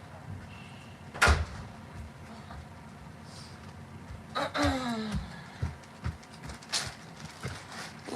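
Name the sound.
door being shut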